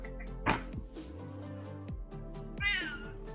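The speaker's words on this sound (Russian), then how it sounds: "пришла моя любимая кошка." A cat character in the mobile game Mighty Party meows loudly once and then again, over steady game music.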